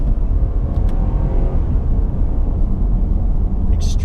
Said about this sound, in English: Just downshifting a little bit.